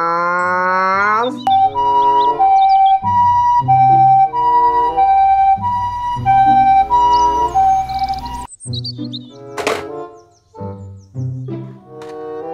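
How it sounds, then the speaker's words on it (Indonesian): A loud toy ambulance siren wails in steady repeated two-tone cycles, then shifts to a different pattern, with chirpy electronic tones mixed in. "ambulans."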